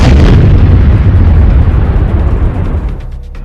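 Heavy wartime explosion in Ukraine, a loud booming blast followed by a long rumbling roar that slowly fades over a few seconds, with no voices.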